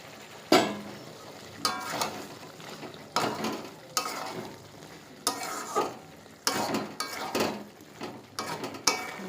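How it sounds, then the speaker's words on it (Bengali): Chicken and fried potatoes being sautéed in a pan, sizzling oil under repeated scraping and stirring strokes of a spatula against the metal, about a dozen loud irregular bursts with quieter frying between. "এবার এর মধ্যেই ভাজা আলুগুলো দিয়ে একটু কষিয়ে নেব।"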